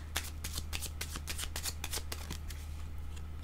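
Tarot-style cards are shuffled during a card reading, making a rapid run of close, crisp riffling flicks and slaps over about three seconds against a low steady hum, with no talking.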